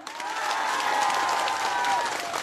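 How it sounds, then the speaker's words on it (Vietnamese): Dense, steady applause from a crowd at a community gathering in Diễn Mỹ commune, Vietnam, sustained throughout and close by. "cũng xin được tất cả mọi người chúng ta cùng vỗ tay"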